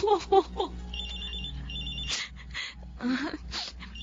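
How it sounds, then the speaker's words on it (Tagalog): A cellphone rings with an incoming call, a repeating electronic ringtone pattern heard near and fairly loud, with a voice speaking briefly at the start. "Ang cellphone ko."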